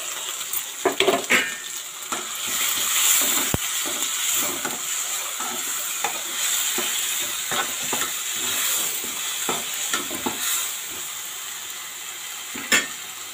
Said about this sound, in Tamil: பச்சை வாசனை போகிற அளவுக்கு வதங்கட்டும்.